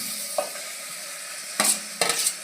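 Fenugreek leaves go into a hot oiled pan and are stirred, making a soft sizzle with a few louder bursts of rustling and scraping near the end.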